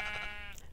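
A sheep in the video game Minecraft lets out a single short bleat as it is killed, a close, wavering cry of under a second over a faint low background.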